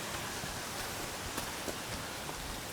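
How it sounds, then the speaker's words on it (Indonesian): A waterfall rushes heavily in a forest after heavy rain, a dense, steady roar of falling water that fills the clip with no break. "air terjunnya deras ini karena hujan kan?"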